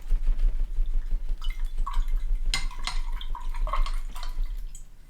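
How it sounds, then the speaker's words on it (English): A paintbrush used for acrylic painting is swished and tapped in a water cup, giving close, soft watery splashes and light clinks against the container. "rinse out that brush"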